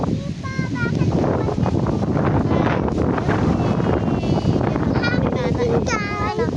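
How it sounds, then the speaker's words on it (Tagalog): Gusty wind roars steadily across the microphone outdoors in a rural copra-making area, a constant rough rumble with voices talking and brief birdlike chirps over it. "Hangin din guys. Hangin po."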